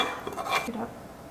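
A spoon stirring the last scoops of baby formula into a bowl of homemade food for a 9-month-old, with several close clinks and scrapes against the dish over about a second, and no talk.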